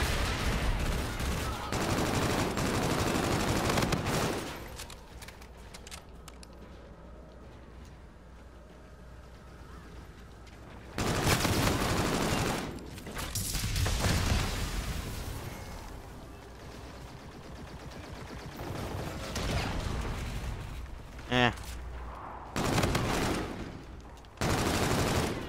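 Infinite Warfare gunfire hitting the player, bursts of loud rapid shots and automatic fire in clusters, separated by quieter stretches of ambient rumble, with a brief whistling tone near the end.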